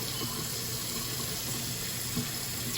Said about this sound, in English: I'm going to go back in and just kind of scrub my nails and palm just to make sure that I got everything